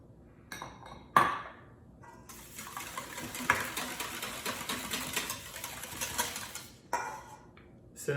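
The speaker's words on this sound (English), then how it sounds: "get a bowl, whisk your eggs, add the milk and vanilla" A whisk scrapes and clinks quickly against a bowl, beating eggs with milk and vanilla for bread pudding, in a few seconds of fairly faint, busy rattling with brief knocks before and after.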